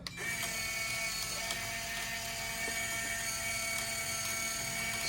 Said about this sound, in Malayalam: നല്ല ഹെവി പവറുള്ളൊരു വിഞ്ച് തന്നെയാണ് ഇത് കൊടുത്തിരിക്കുന്നത്